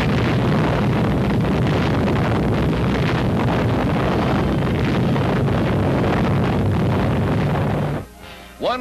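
An atomic bomb test explosion on archival newsreel film roars as a loud, sustained rumbling blast that fills the air for several seconds before cutting off abruptly.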